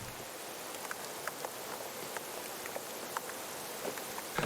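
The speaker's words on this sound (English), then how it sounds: "a bit of rain as well, but who cares?" Steady rain falls in the Creepy Tale 2 video game, a dense even hiss with scattered pattering drops, continuous and fairly loud with no voices.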